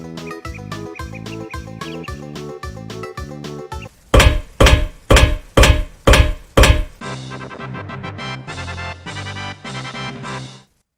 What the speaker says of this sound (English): Are you watching somebody hammer something into a wall?